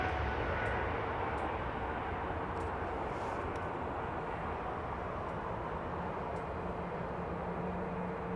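An airliner on its takeoff roll down runway 27R, a steady broadband engine roar that holds evenly throughout, moderately distant, with no talk over it.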